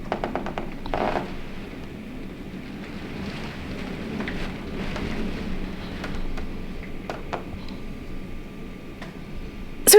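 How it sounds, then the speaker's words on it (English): Heavy rain and gusting wind from Hurricane Ian outside a Universal Orlando hotel, a steady wash of rainfall and wind noise with occasional sharper gusts and clatters, fairly distant and continuous, with no talking. "Quite a lot of rain, quite windy."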